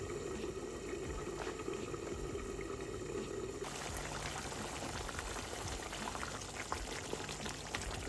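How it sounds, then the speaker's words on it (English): Water is added to a pot of Jamaican beef stew as it cooks at home, a steady pour over constant bubbling and boiling that runs without talk. "Checked on my beef and then added more water"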